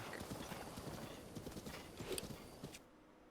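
Horse galloping in The Legend of Zelda: Breath of the Wild, rapid rhythmic hoofbeats pounding along at a moderate, fairly quiet level before fading to near silence at the end.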